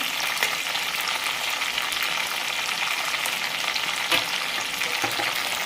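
Green chilies frying in a pan as the base of a Telangana-style stuffed brinjal curry, giving a steady, close, dense sizzle that runs unbroken throughout with no talking.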